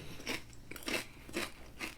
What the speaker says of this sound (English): Your chewing is really fucking loud.